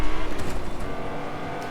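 A Ferrari in the Fortnite video game drives with a steady, loud engine roar and road noise, with no pauses.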